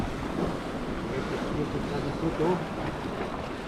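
Ocean waves off Cyprus surge and break in a continuous roar, mixed with gusting wind buffeting the microphone.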